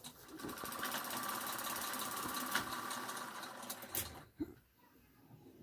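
A sewing machine runs steadily while stitching salwar fabric, its rapid mechanical whir continuing for about four seconds before it stops and leaves a quiet room.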